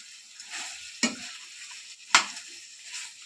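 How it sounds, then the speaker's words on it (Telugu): Chicken pepper fry sizzling in a hot pan as coriander is stirred in, a continuous crackling hiss broken by two sharp scraping strokes of the spoon, close and clear with no talking. "కొత్తిమీర వేసి ఇంకా కలబెట్టి దించేయడమే అండి."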